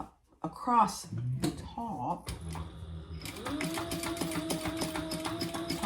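A voice talks first, then a sewing machine starts stitching across the top of a crossbody phone bag, a steady rapid mechanical chatter that runs close and continuous to the end.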